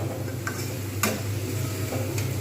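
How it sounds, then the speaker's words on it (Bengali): Homemade biryani masala with tomato being fried and stirred in a pan: a steady low sizzle with scattered clicks and scrapes of a spoon against the metal, close and continuous, no voices. "মশলাটা কিন্তু আমি খুব ভালোভাবে কষতে থাকবো"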